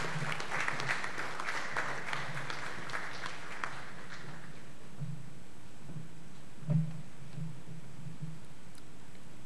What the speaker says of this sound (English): Please stand and also welcome liberally with applause the Prime Minister of the Republic of Trinidad and Tobago